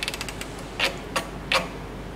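The current knob on a Welldo MCTD-416 multi-function welding and cutting machine is turned, giving a few faint ticks and then three distinct, close mechanical clicks.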